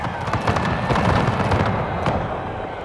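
Musket volley from Napoleonic-era infantry in a strategy game battle, a dense crackling burst of overlapping shots rolling across several seconds, loud and close with some scattered reports trailing off.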